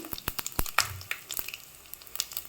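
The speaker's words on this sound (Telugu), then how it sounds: "వేయించుకోవాలి" Whole garam masala frying in hot oil in a pan for a Telugu mushroom pulao, a soft crackle of small sharp pops and sputters scattered at an uneven rhythm, close but quiet, with no talk.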